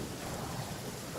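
Thunder rolls through a storm in the video game Genshin Impact as a dense, steady rumble mixed with rain hiss. It is brief and fairly loud, with no talking.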